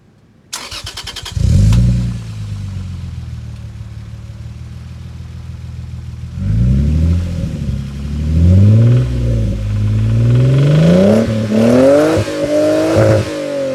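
Lexus IS300 with an HKS Hi-Power exhaust cranks and fires up, settles into a steady idle, then revs several times with rising, throaty pulls, close and loud.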